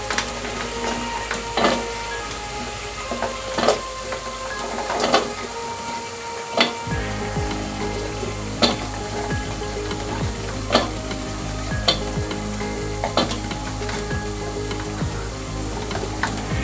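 Potatoes fry in a pan for vegetable biryani, a constant, close sizzle of hot oil that thickens partway through, punctuated by regular clacks of a utensil stirring against the pan.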